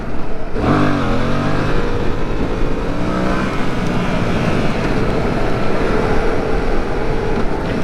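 A Yamaha MT-07 motorcycle engine runs loud and close throughout, with a steady roar and shifting engine tones as it pulls along.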